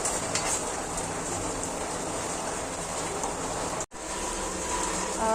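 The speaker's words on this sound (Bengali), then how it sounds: "বাইরে প্রচণ্ড বৃষ্টি হচ্ছে" Heavy rain pouring down outdoors, a dense, steady hiss and patter at moderate loudness that continues without pause apart from one brief break, with no voices.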